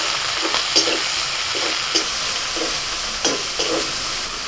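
Ground coriander, cumin, dried chilli and turmeric paste fry with chopped tomato, ginger and garlic in a pan, giving a loud, constant sizzle under repeated scraping stirs of a spatula, with no talking.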